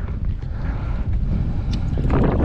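Wind buffets the microphone while paddling on Windermere, a loud, constant low roar and rumble up close with faint water sounds beneath.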